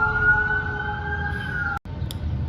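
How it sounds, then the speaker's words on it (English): Sustained siren tones from emergency vehicles wail steadily over low traffic rumble, cutting off briefly near the end before the background noise resumes. "So many sirens."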